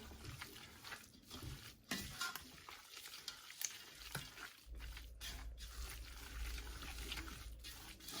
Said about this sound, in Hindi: तो अब जो है हम इसको अच्छे तरीके से मिक्स कर लेते हैं